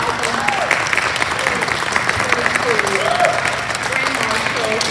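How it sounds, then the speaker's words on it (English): An audience at a reception for the 2022 Campbell County Christmas Parade grand marshal breaks into dense, continuous applause, with cheering voices and whoops rising through the clapping. "Help me give a round of applause to the 2022"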